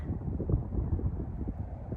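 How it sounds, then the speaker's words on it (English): Low wind buffets the microphone in a continuous rumbling gust, fairly faint and muffled, with no voices. "It's really windy right now"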